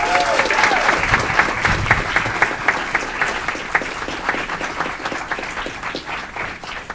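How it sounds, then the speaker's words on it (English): Crowd applause at a city council meeting honoring a state high jump champion, a steady, fairly loud stretch of many hands clapping that holds for the whole span without talk. "Give him a round of applause."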